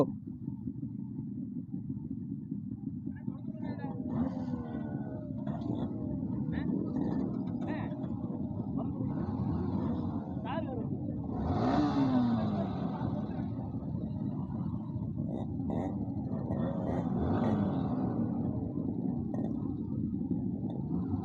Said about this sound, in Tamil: ஆர்எக்ஸ் சவுண்டு வேறு லெவலில் இருக்குங்க ப்ரோ